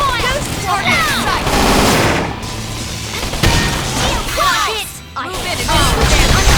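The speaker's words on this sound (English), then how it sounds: "Here they come. Open fire!" Rapid gunfire bursts in the Xenoblade Chronicles X video game, loud overlapping shots and crashes in a battle, with brief game voices mixed in.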